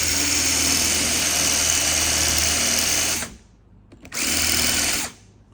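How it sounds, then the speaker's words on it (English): A power drill whines steadily cutting a slot for fitting an NB Miata steering wheel to an NA Miata, cuts out briefly, then runs again in a short burst before stopping; loud and close, with no talking. "You're gonna put your drill bit in there, goes in."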